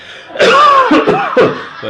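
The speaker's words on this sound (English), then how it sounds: "how it handles the coughing" Coughing in a room, a few sharp rough bursts in quick succession close to the microphone, with throaty voiced sounds between them.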